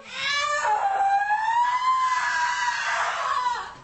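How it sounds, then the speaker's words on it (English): A woman screams in distress during a strip search by sheriff's deputies, a single long, loud, high wailing cry that wavers in pitch and holds for nearly four seconds. "she begins to scream"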